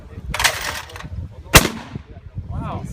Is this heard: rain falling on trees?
no